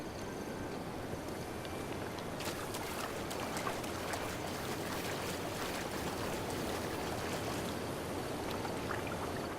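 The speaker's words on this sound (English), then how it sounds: "Stare at the waterfall." A waterfall in Zelda: Breath of the Wild roars steadily, a dense continuous rush of falling water with faint crackling detail, unbroken from start to finish.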